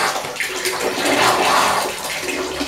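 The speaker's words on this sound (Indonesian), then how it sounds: "sekarang kita lihat kalau misalkan kita buka kerannya, dia nyala sempurna" A newly installed water tap is opened and runs in a strong, steady, splashing stream close by, rising slightly in the middle, with no speech over it.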